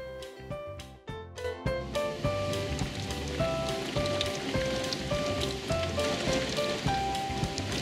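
Steady rain patters continuously at close range, a dense wash of drops mixed with tonal musical notes that run throughout.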